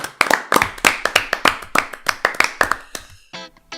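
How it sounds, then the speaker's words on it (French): A small studio group claps for a radio show chronicler, a sparse, close run of distinct individual hand claps in a loose rhythm that thins out and stops near the end. "je crois qu'on peut applaudir Victor"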